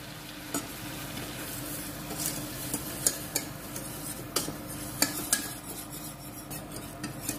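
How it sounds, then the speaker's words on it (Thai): Flour being stirred and roasted in melted butter in a pot, a faint low sizzle under scattered sharp utensil clicks and scrapes against the metal. "พอละลายแบบนี้แล้วก็ใส่แป้งลงไปคั่วค่ะคั่วให้เขาเป็นสีน้ำตาลนิดนึง"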